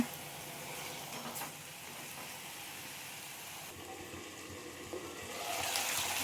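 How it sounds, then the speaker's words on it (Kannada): Chicken fries in a pan, cooking off its released water until dry, with a soft, continuous sizzle and occasional stirring scrapes, fairly quiet and close, swelling a little near the end. "ಸೊ ಇದು ಫುಲ್ಲು ಡ್ರೈ ಆಗೋ ತನಕ ಫ್ರೈ ಮಾಡ್ಕೋಬೇಕು"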